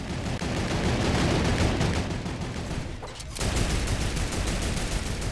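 A turret in the Fortnite video game fires continuously, a loud dense stream of rapid gunfire that dips briefly midway before resuming.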